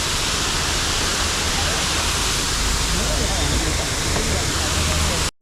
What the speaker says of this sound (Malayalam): ഇത് വിളഞ്ഞങ്ങാനം എന്തോ പേരുള്ളൊരു വെള്ളച്ചാട്ടമാണ് സംഭവം